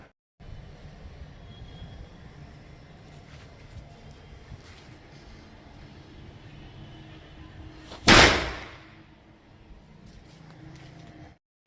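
A single Bijili firecracker from Durgesh Fireworks bursts with one sharp, loud crack partway through, its echo tailing off over a steady outdoor background hum.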